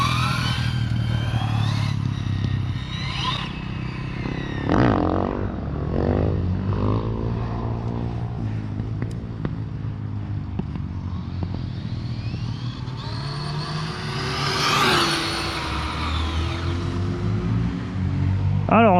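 Hobao 1/7 El Camino electric RC car on an outdoor cornering test, its motor whining and rising in pitch through repeated bursts, with rougher passages and occasional quiet voices underneath.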